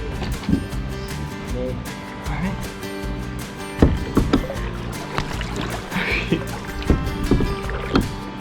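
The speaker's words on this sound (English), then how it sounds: "So I went kayaking for my first ever time" A kayak is paddled on the water, with rhythmic splashes and knocks of the paddle against the hull over a steady background of water and wind close to the mic.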